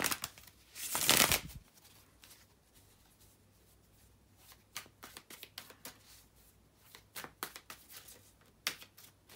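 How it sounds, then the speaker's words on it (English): A loud burst of tarot card shuffling near the start, followed by quiet soft taps and brief flicks of cards being handled. "bear with me just a second, guys, to shuffle the tarot cards"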